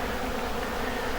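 A dense, continuous hum of honey bees swarming over freshly extracted honey frames at harvest time, close and even in level, with no voices.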